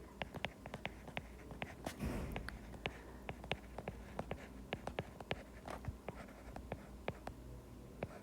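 Pen on paper as someone writes out a math exercise by hand, a series of quick scratchy strokes and taps in an irregular rhythm, close and clear with no talk.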